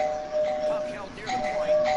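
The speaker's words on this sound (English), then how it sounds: "Your doorbell's broken." A doorbell chimes through a steady two-tone ring that cuts out and returns, sounding over busy background noise and voices from an NHL 18 hockey game.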